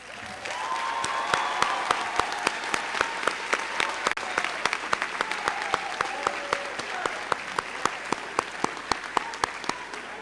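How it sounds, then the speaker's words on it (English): An audience at a 2023 high school graduation ceremony gives a round of applause to National Honor Society members, with a long, steady wash of clapping and some sharp close claps standing out, plus faint crowd murmur. "Members of the National Honor Society, please rise to be recognized by a round of applause."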